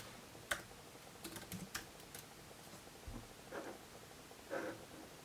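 Quiet typing on a computer keyboard, a few short bursts of clicking keystrokes separated by pauses, close and faint against a low room hush.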